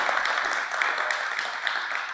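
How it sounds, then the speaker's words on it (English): Audience applause fills a conference hall at a Davos talk, a steady, dense wash of clapping that holds evenly for about two seconds with no speech over it. "So a round of applause, please, for Jonathan Dotan."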